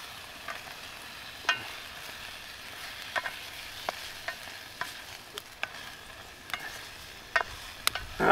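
Chicken stirred with sauces in a pan over a wood fire, giving a low steady sizzle broken by sharp utensil scrapes and clicks at irregular intervals, moderately close.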